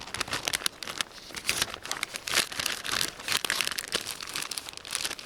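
A plastic pouch from a Lithuanian military ration crinkles and rustles in irregular bursts, handled up close, with no talking.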